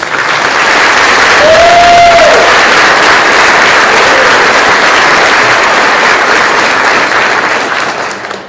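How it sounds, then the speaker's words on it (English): Audience at a police academy graduation ceremony giving a long, loud round of applause, a thick sustained roar of clapping in a large room with a brief whistle early on, fading at the end. "Please join me in one more round of applause for these fantastic professionals"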